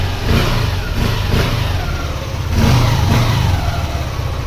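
A motorcycle engine just repaired after an error 12 fault revs in several short throttle bursts over a steady idle, loud and close, with no talking.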